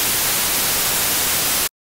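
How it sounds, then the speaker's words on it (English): Steady hiss of broadband white noise, loud and even, running continuously before cutting off abruptly to silence. "Awesome, we've got some white noise."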